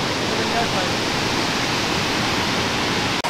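A waterfall in Provence, southern France, roars as a dense, constant wash of falling water, loud and close, filling the scene without pause.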